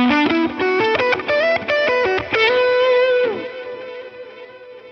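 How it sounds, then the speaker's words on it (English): Electric guitar run through a fuzz pedal model on a Line 6 Helix plays a quick fuzzy melodic line of sustained distorted notes, loud and close, ending on a long note that decays. "fuzz pedal is like an extreme kind of type of distortion"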